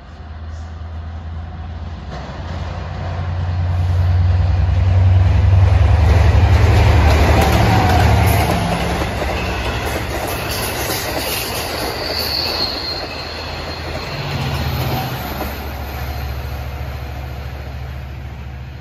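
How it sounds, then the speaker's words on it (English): A Long Island Rail Road commuter train bound for Oyster Bay passes a station during evening rush hour, a loud rumbling roar that swells and fades across about eighteen seconds, with wheel squeal and rail noise and no talk. "Here comes at 6:54, train 564, en route from Penn Station, New York to Oyster Bay."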